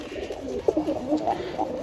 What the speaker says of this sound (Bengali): এক পেয়ার চায়না কাকি কবুতর আছে হ্যাঁ খুব সুন্দর দেখার মতো এক পেয়ার কবুতর